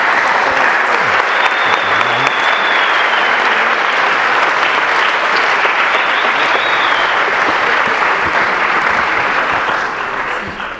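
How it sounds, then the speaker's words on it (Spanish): A university auditorium audience gives a long, loud round of applause welcoming a Colombian writer to the stage at a literature forum, with a few faint whistles, tapering off at the end. "por favor, recibamos con un fuerte aplauso a nuestro escritor e invitado, Héctor Abad Facio Lince."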